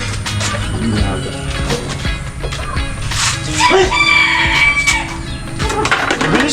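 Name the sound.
chickens crowing and clucking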